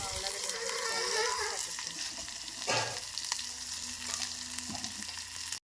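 Onions, green chillies and curry leaves fry in a pan with a strong close sizzle that settles to a softer hiss, broken by a few stirring scrapes and a clank at the end.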